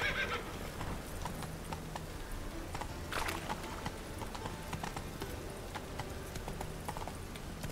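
The horse Roach in The Witcher 3 gallops with a steady clip-clop of hooves under game ambience, a whinny breaking out early and again around the middle, the hoofbeats continuing evenly throughout.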